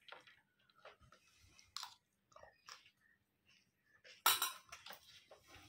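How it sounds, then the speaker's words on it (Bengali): Someone eating fried greens with rice, soft close chewing and crunching in irregular bursts with occasional light clicks of utensils, quiet with pauses between bites. "প্রথমেই খাই শাক ভাজা"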